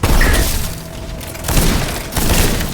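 A gun fires in SteelRising, giving three heavy, booming blasts spread over a few seconds, each loud and close with a rumbling tail.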